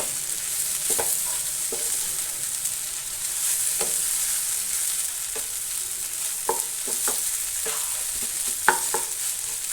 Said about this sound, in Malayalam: ഇനി നല്ലപോലെ നമ്മളൊന്ന് ഇതെല്ലാം ഒന്ന് സെറ്റാക്കി ഒന്ന് ഇളക്കി കൊടുക്കും